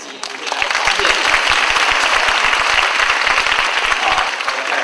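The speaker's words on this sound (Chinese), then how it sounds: "然后最后呢，我们大家一起给何教授，还有给各位自己一个掌声。" A lecture audience bursts into sustained applause, dense clapping that swells quickly and continues steadily, heard close, with a few voices mixed in.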